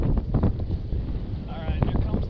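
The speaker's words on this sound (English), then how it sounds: "here comes the wind" Wind rushes across a lake around a fishing boat at Lake Lanier, a loud, buffeting roar battering the microphone with low rumbling gusts throughout, and a faint tonal squeak midway.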